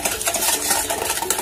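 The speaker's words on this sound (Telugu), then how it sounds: "ఇలా బీట్ చేసుకోవాలి" Eggs and sugar are beaten by hand in a bowl to make fruit cake batter, giving a quick, even run of wet whisking strokes against the bowl over a second and a half.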